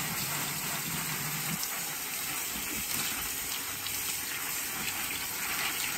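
Hot tap water runs steadily while yogurt is rinsed out of a nylon strainer, a continuous close splashing gush with no talk.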